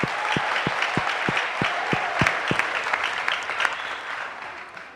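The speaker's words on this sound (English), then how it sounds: "So, let us give a big round of applause." Applause from an audience at a foundation day celebration follows a dance performance, loud and dense. A series of regular low thumps sounds through the first half, then the clapping gradually fades.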